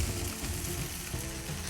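Tomatillo and tomato sizzle on a disco grill while being roasted for salsa, a steady, dense crackling fry that holds evenly close up for the whole moment with no voices.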